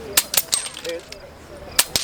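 Airgun shots at an outdoor airgun competition in Utah, several sharp cracking reports spaced irregularly, loud and close, with a brief quiet stretch between them.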